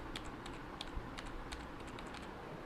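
Fingers typing on a Cooler Master Octane membrane keyboard, a quick run of soft, muted key clicks close by over faint background hiss, with no voices.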